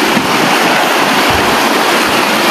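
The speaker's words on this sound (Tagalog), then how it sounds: "Ayan guys, ang ganda nga ng ilog." River water rushes loudly and steadily close to the microphone, a dense continuous wash of flowing water with some wind buffeting and no voices.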